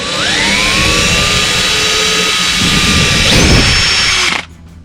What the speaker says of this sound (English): at least hopefully get the hole drilled, get it mounted in the dash